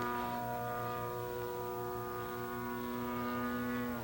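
A large RC model airplane dives down the backside of a knife edge loop, its engine holding a loud, steady harmonic drone with a faint pulsing throb underneath and no voices.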